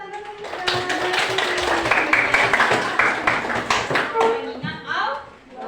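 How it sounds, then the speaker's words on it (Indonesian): Classroom audience clapping for a student during a lesson, a dense burst of many hands lasting several seconds with children's voices mixed in, fading toward the end. "Oke, kita beri tepuk tangan dulu."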